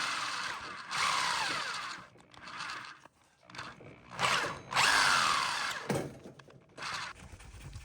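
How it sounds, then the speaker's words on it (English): An old bit on a power drill bores into foam board in bursts, the whining motor starting and stopping several times with short pauses between, close and fairly loud. "get a little leverage on the back of the drill to help push it in faster"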